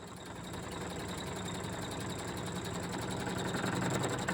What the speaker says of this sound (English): I'm going to try and machine a press fit between the 2 parts.